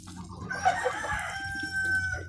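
A rooster crows once, a drawn-out, strained call held for about two seconds, close and loud among ducks and a drake, with faint clucking beneath.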